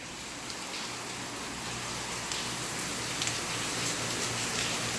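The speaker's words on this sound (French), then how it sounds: "il y a une pluie de dingue qui s'est déclenchée au moment où on voulait partir" Heavy tropical rain pours steadily in Playa del Carmen, Mexico, during the rainy season, in a dense, even hiss, loud and unbroken throughout, with no voices.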